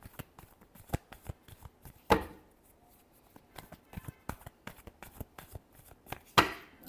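Tarot cards being shuffled by hand, a rapid train of soft riffling ticks with two louder slaps of the deck, close and alone without talk.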